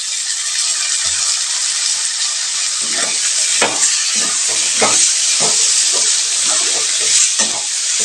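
Half a kilo of cleaned goat liver fries in a pan with onions, a loud, dense sizzle and hiss with repeated stirring scrapes and rattles throughout, no talk.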